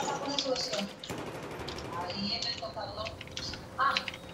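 Gunfire in the video game Battlefield 4 comes as rapid bursts of shots, fairly close, mixed with game noise and a speaking voice.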